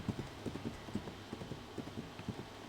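Rhythmic clip-clop of horse hooves carrying two knights into a forest, steady trotting beats at moderate distance with no voices.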